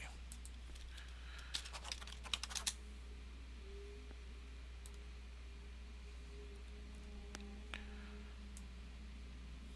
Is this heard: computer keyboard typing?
yes